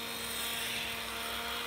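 Dremel 3000 rotary tool running steadily with a constant high-pitched whine and hum, close and even throughout a short stretch, with no voices.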